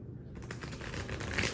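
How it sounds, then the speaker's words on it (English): Cards for a Fistful of Lead Horse and Musket tabletop game being shuffled, a steady papery riffling and rustling close by, with no talk over it. "put all the cards in and shuffle"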